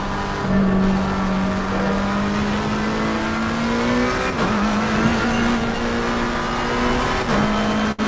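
An Indy race car in a racing video game screams through a hot lap, its engine holding a loud, steady high drone with a few brief dips as it shifts or brakes.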